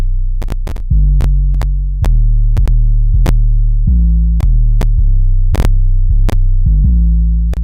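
Deep 808 bass from an FL Studio beat: long sustained sub-bass notes sliding between pitches, loud and continuous, punctuated by sharp percussive clicks and hi-hat-like ticks, with no voices.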